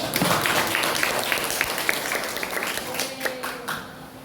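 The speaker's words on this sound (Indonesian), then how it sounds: "Kasih tepuk tangan untuk teman kalian juga." Classroom students give a dense burst of clapping that fills the room from the start and slowly thins out, with a teacher's voice speaking near the end.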